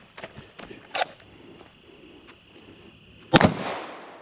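A gunshot at an outdoor shooting range, one loud sharp crack with a decaying echo near the end, preceded by a few fainter clicks and knocks.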